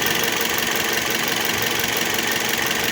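A secondhand car's engine runs steadily at close range with a rough, gritty rattling texture from its belt, constant and loud throughout with no voices.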